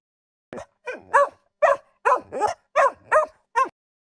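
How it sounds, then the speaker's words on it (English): A dog barks in a quick series of about nine close, loud yaps, some doubled, with short silent gaps between them. "He barked and pulled at the leash."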